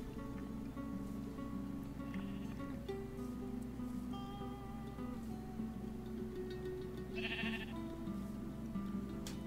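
Minecraft sheep bleat a few times over a dense, steady game soundscape with a constant tonal drone and faint shuffling, the bleats short and mid-level.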